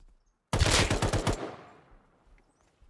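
An LR-300 assault rifle fires a rapid automatic burst of about ten shots in the video game Rust, loud and close, its echo trailing off into quiet afterward.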